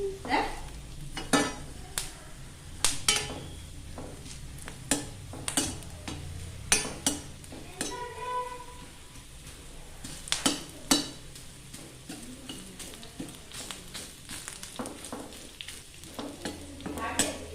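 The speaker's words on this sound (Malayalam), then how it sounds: "നമ്മുടെ ഇഞ്ചിയും വെളുത്തുള്ളിയും ഉള്ളി നല്ലവണ്ണം ചുവന്ന് വന്നു" Ginger, garlic and onion sizzle in a hot pan as a spoon stirs them, for a homemade chutney powder. Loud metallic scrapes and clinks sound again and again over a steady, close frying hiss.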